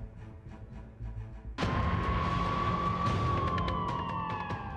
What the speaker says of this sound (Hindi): एक बार फिर एम्बुलेंस के सायरन सुनाई देने लगे।